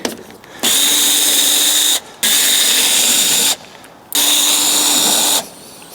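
A cordless power tool undoes T30 Torx screws on the rear door latch actuator of a Range Rover Sport. Three loud, steady whirring bursts of about one and a half seconds each are separated by short pauses, close up, with no talking.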